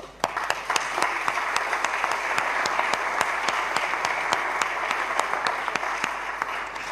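Audience applause at the Alfons de Borja award ceremony of Alumni UdL, a steady, moderately loud crowd clapping with sharp individual claps standing out, lasting several seconds without speech.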